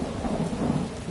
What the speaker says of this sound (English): Big old bloody fucking thunderstorm.